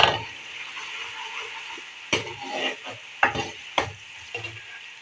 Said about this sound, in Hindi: इसको हल्का सा हम फ्राई कर लेंगे